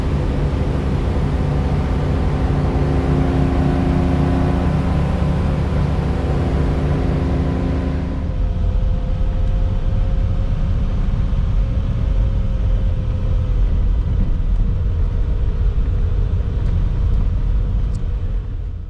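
Manual Ferrari engine cruising in overdrive, a steady loud drone that drops to a lower, smoother rumble partway through as the gear changes, with continuous road and wind noise throughout.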